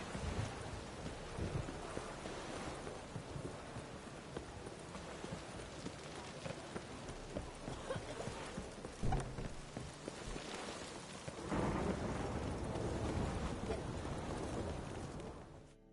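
Steady rain pours in the game The Witcher 3 Wild Hunt, a dense continuous hiss with low rumbling thunder swelling underneath and a louder surge near the end. Voices and hoofbeat-like clatter mix into the downpour.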